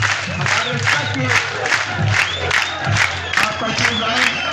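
A rally crowd celebrating an election win claps and cheers loudly, with rhythmic bursts of applause and shouting voices throughout, close and dense.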